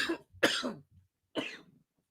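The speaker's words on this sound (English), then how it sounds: "Now you got me coughing, boy." A man coughing, two quick harsh coughs followed by a third after a short pause, close and fairly quiet, with no talk.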